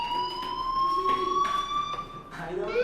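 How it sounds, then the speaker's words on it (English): A fire alarm rings with a continuous, steady electronic tone, loud and unbroken, while people's voices can be heard faintly underneath. "Hey, do you hear that fire alarm?"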